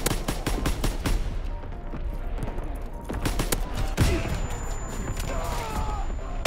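Rapid gunfire and booming artillery rounds in a Call of Duty WW2 battle, with repeated sharp cracks through the first half, a heavy blast near the four-second mark, and steady war-zone rumble beneath.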